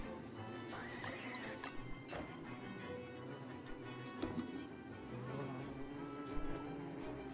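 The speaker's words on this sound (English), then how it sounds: "Oh, there's a bee." A bee in the video game Don't Starve gives off a faint, steady droning buzz that persists throughout, low under soft game ambience.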